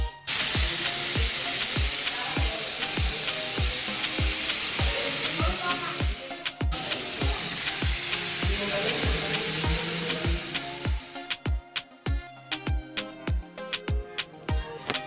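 Chicken breast steak sizzles loudly on a hot plate, a dense continuous frying hiss with steady crackle and repeated clinks of cutlery against the plate, the sizzle easing toward the end as the clinks grow sparser.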